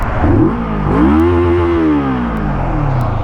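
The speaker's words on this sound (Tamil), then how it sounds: "எக்ஸாஸ்ட் நோட் அங்கே கேட்க முடியல, இங்கே கேட்க முடியுதான்னு பார்ப்போம்." A Moto Morini 650 motorcycle revs up close, its exhaust note rising in pitch and then holding a loud, steady drone, with clatter over a low rumble.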